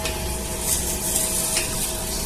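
Panch phoron spices for garlic pickle sizzle in hot oil: a steady, close frying hiss with faint crackles runs throughout, with no voice.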